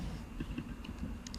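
Fingers tap quickly on a computer keyboard to enter a ticker symbol, producing a brief run of light, close clicks at low volume that ends with a slightly sharper keystroke.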